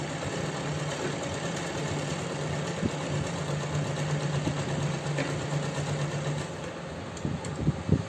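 Sewing machine stitching the seam of a pant leg, a steady mechanical hum running throughout, with a few soft clicks near the end and no talking.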